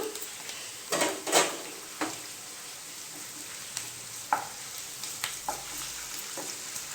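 Ginger-garlic paste with chillies sizzling and frying in a pan while being stirred, with scattered scraping clicks of the utensil over a steady hiss, several louder scrapes early on.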